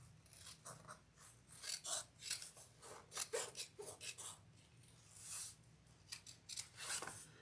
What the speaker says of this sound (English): Okay, then we're going to cut away that lining piece.